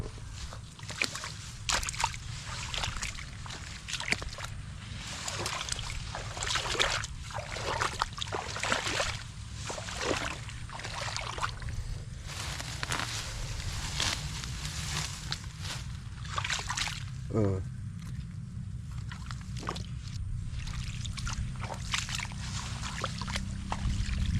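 Steady irrigation water flowing and sloshing into a crop field nearby, a continuous broadband rush with small splashes, carrying on throughout without speech.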